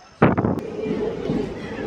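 A Guntakal–Tirupati passenger train pulls out of Tanakallu station: one sharp bang, then a steady, loud rolling rumble, with voices faintly in the background.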